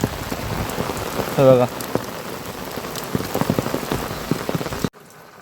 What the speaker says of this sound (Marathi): आत्ता पाऊस सुरू झाला